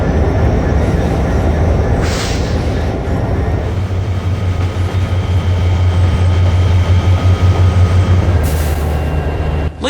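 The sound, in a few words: freight train moving, from a video game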